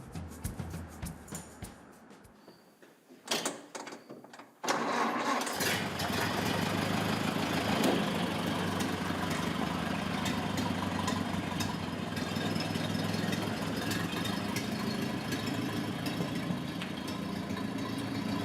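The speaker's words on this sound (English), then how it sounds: "It is a 1929 Model A Ford Roadster." A 1929 Model A Ford Roadster engine idles with a steady, close, even rumble for most of the clip, after a few seconds of quieter scattered sounds.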